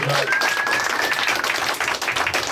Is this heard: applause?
yes